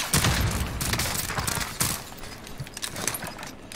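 Dense, continuous gunfire from the video game Warzone, with overlapping rapid shots and booms forming a busy, loud wash throughout.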